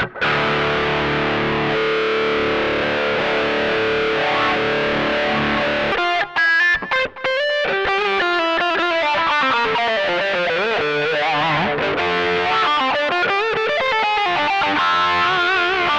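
Distorted electric guitar played through a wah effect on a Mooer GE100 multi-effects pedal, loud and up close, with sustained chords giving way to sweeping, vowel-like filtered runs that carry on to the end.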